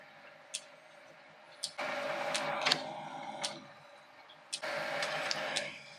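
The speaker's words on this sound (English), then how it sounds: "So I'm going to part that off at 15 millimeters long." A lathe parts off a 15 mm long drawbar adapter for an ER32 collet chuck. Two sustained, moderately loud scraping cutting passes are set against a faint hum, with a few sharp ticks between them. No one speaks.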